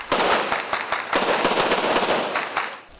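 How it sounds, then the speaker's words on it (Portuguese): Gunfire from a shootout between police and criminals in Rio de Janeiro's metropolitan region rings out as a rapid, irregular string of sharp cracking shots, loud and close, with no voices over them. "Troca de tiros entre policiais e criminosos."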